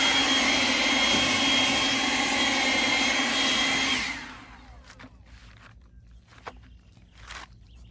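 A leaf blower roars steadily up close as it pushes back climbing pea vines in a garden, then cuts off, leaving quieter rustling and a few soft footsteps.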